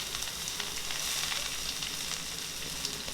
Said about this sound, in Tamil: அடுத்ததாக இதில் 2 பெரிய வெங்காயத்தை நல்லா பொடியாக கட் பண்ணி சேர்த்துருங்க